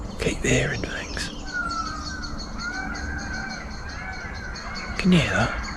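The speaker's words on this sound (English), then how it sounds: "Peacock." A peacock call rings out against a chorus of birds outdoors in hot weather, with a soft breathy voice murmuring at the start and end.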